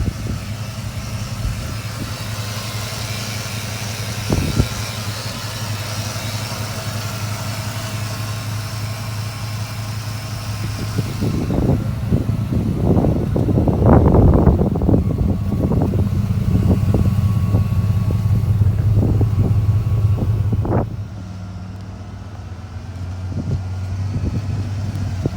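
A 1996 Ford Bronco's engine idles steadily, then revs with a cluster of sharp bursts and rumbling as it gets moving, settling back to a quieter run near the end; close and fairly loud, no speech.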